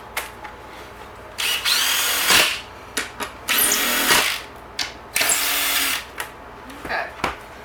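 A power drill driving screws into the top of layered Christmas tree yard art, in several short whirring bursts separated by pauses.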